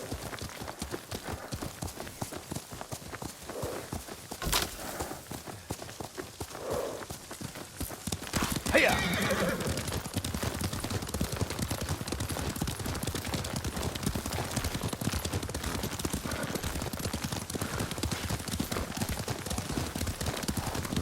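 Hooves of a horse being ridden in the game Ghost of Tsushima, a continuous rhythmic clip-clop at a steady gait with a few brief louder accents, close and moderately loud over a low background.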